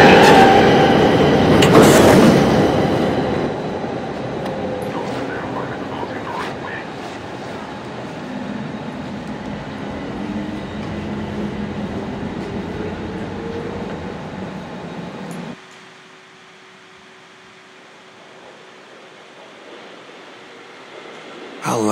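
Subway trains rumble and roar past in a station in The Darkness video game, loud and close at first, easing into a steady rolling clatter before cutting to a quiet hum.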